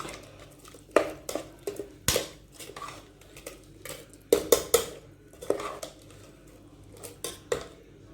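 A spoon scrapes and clanks against the sides of a metal pot of mixed vegetable kurma in irregular strokes, with wet stirring sounds between the sharper knocks.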